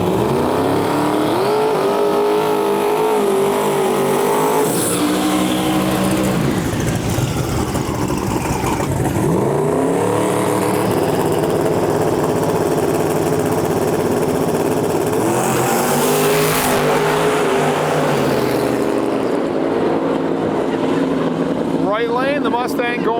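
A nitrous Mustang drag racing car launches and roars down the strip at a track, engine revving loudly with gear changes across a long pass, while an announcer talks over it.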